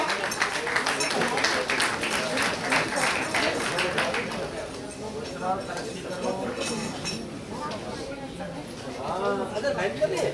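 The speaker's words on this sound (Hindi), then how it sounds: "इन बच्चों की हौसला अफजाई के लिए एक बार जोरदार तालियों स्वागत करिए बच्चों का।" Audience at a college commemoration event applauding for children, a burst of clapping that fades into crowd chatter and clinks, with voices talking in the background.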